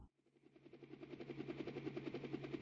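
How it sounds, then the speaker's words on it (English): Helicopter rotor in the video game LiEat, a steady rhythmic chopping drone that swells gradually from faint to moderate and continues alone. "A helicopter?"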